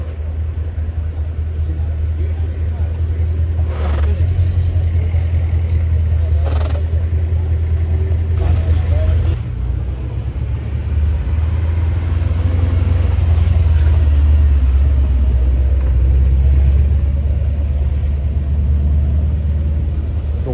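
Sports car at night in Monaco during the Grand Prix weekend, heard as a loud, continuous low engine rumble lasting the whole stretch, with street noise and faint voices in the background.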